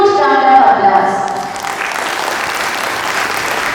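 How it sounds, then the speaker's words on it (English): Applause rises at a school exhibition at St. Raphael's Academy in Indore, following a moment of music or tonal sound, then continuing as a steady, fairly loud wash of clapping. "Let's welcome Dr. C.P. Paul with a huge round of applause."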